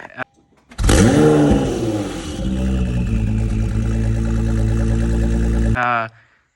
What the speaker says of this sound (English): It has a Fab Speed catless exhaust. It sounds insane.